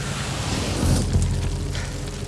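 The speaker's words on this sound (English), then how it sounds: "On action, the beast comes forward, it's gonna be on fire." A film set fire effect on a creature, a broad roaring whoosh of flame that swells loudly partway through and then keeps burning with a rumbling crackle.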